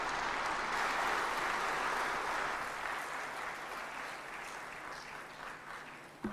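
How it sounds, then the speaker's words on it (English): Audience applause at a human capital meeting in Tanzania attended by President Ruto, a steady dense wash of clapping from a large standing crowd that holds loud throughout and slowly eases toward the end. "May I request you to stand up and we clap our hands."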